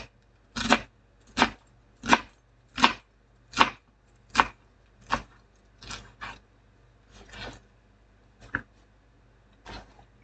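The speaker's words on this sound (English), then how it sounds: "I might as well go ahead and chop up this little piece too" A knife chops through vegetables on a cutting board in about a dozen crisp, evenly spaced strikes, close and clear, with the last few chops coming softer and more irregular.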